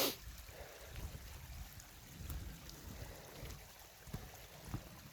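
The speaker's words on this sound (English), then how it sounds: "creek crossing. See?" Creek water flowing along the Blue Ridge Parkway at a crossing, a steady broadband rush with low gurgling surges, fairly close and continuous without talk.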